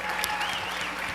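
Audience at a Controls-Con 2023 keynote breaks into dense, steady applause, a continuous wash of many hands clapping throughout.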